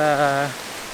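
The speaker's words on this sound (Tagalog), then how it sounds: "umuulan ng konti dito sa Ilan" Light rain falls on a cloudy, overcast mountainside in Taiwan, a soft, steady hiss of drops close by; a voice hums briefly at the very start before the rain continues alone.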